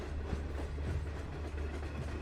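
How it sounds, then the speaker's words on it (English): A train running through a deep underground railway tunnel, a continuous low rumbling roar with faint rhythmic clatter, steady and enclosed, with no voices. "And that was a train I heard."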